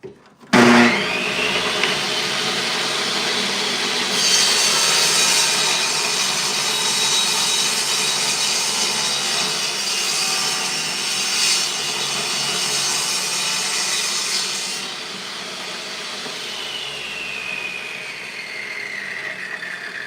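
A table saw cuts wood for cabinets without a push stick, its loud, steady whine holding for most of the stretch before easing slightly toward the end.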